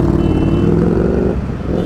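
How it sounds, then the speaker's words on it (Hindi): A loud Ducati Panigale V4 motorcycle with an Austin Racing exhaust, its engine rumbling steadily at close range, with a slight drop in pitch near the end. "चलाने के लिए V4 इज वेरी लाउड"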